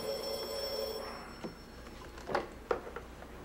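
An old telephone rings indoors with a single sustained bell tone, followed by a few sharp clicks and knocks as the ringing stops.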